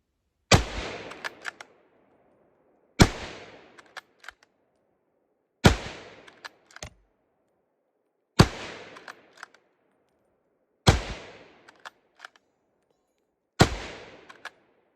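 Six sharp, loud rifle shots from a Carcano M91 long rifle firing 6.5 Carcano rounds, evenly spaced about two to three seconds apart, each followed by bolt-action clatter and a brief echo.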